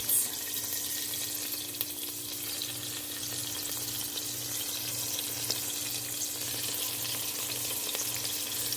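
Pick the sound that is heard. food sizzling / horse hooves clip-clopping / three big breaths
food sizzling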